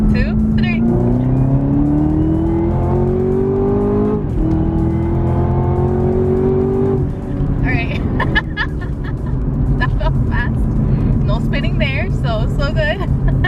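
A sports car pulls hard in second gear, the engine note climbing steadily through long rising sweeps with a brief dip between them, loud and close, while a person talks over it.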